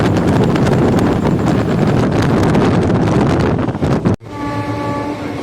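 Kaviguru Express running over a bridge near Khana Junction on the Bardhaman–Asansol main line: loud continuous rumble and clatter of the moving train with wind buffeting, then a sudden drop to a quieter hum with steady tonal whine.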